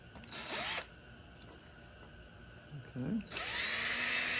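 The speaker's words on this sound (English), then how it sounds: "we're just gonna find somewhere to put a hole in it" A power drill bores a hole in a motorcycle gas tank mount in two loud bursts, one short at the start and a longer one at the end, with a quiet pause between and a brief spoken word.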